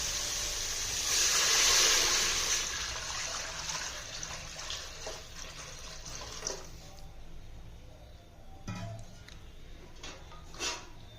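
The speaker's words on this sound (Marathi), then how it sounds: "आता त्यामध्ये पाणी ओतू" Water poured into a cooking pot over turmeric and salt for a Maharashtrian rassa curry: a brief gushing splash at the start that fades into quieter kitchen clinks and knocks, with no talking.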